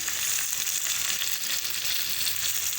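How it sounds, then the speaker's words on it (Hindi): Tomatoes going into a pan of onions frying to light brown, producing a loud, dense, continuous sizzle that holds steady for the whole stretch with no speech. "प्याज मेरा होगा लाइट ब्राउन। अब डाल रहे हैं टमाटर।"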